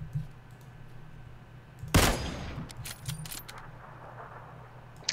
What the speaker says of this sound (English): That's an SKS to our east.